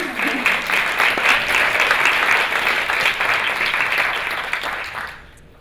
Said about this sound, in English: So we could have a round of applause for Jen.